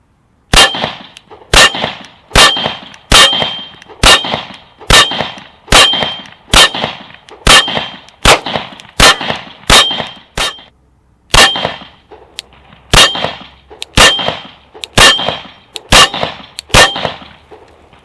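Close, loud gunshots ring against a modular steel target in a steady run of about twenty sharp metallic clangs. There is a short pause about two thirds of the way through before the shooting resumes.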